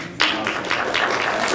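Audience clapping in a math class, a short burst of scattered applause that starts abruptly and continues as a dense patter of hand claps.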